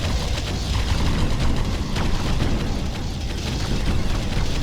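Hostile fire striking a squad in the real-time strategy game Ground Control: a dense, continuous roar of explosions and booming artillery-like blasts, loud and sustained throughout.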